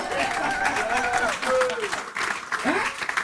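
A church congregation applauds and cheers for the Lord, clapping and crowd noise mixed with excited voices and a preacher's speech over it.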